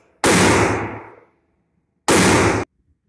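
Two loud, close gunshots from an S&W M&P 1.0 .40 caliber pistol fitted with a factory 357 Sig barrel firing Buffalo Bore hollow points, each a sharp blast with a ringing decay, spaced about two seconds apart.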